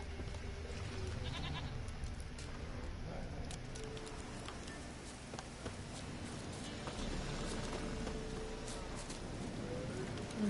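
Goat bleating in The Witcher III, set against a steady layer of ambient game sound, with occasional bird-like chirps and no voices.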